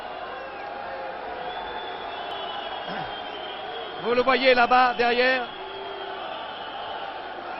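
A wrestling crowd at the Cirque d'Hiver whistles and jeers at wrestler André Bollet, a low murmur rising into a loud burst of shrill calls midway, under steady French commentary.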